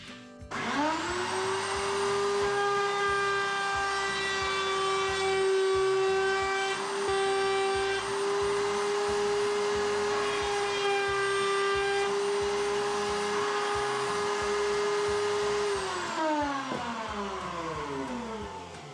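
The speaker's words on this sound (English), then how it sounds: "when I run that against the roller, it'll just cut away maybe like the first layer of veneer on this to put a little chamfer around the edge" A router cuts a chamfer along the veneered edge of plywood, spinning up into a loud, steady high whine that holds for about fifteen seconds before winding down at the end.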